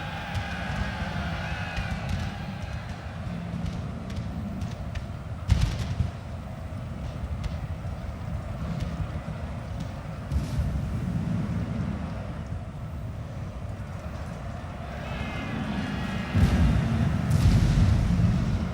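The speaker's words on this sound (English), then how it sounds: "That grape shot really took him out." Artillery fires grape shot in a strategy war game set in a battle between French forces and Bedouin camel troops, with low rumbling volleys and sharp bursts over a continuous battle din of marching and crowd noise.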